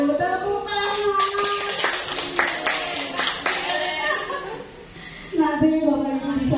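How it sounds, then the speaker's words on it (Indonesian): Audience of teachers clapping hands in a rhythmic count exercise at a school dissemination session, with a chanting voice and harmonic vocal tones over scattered claps, then a brief laugh-like vocal swell near the end. "Tepuk tangan."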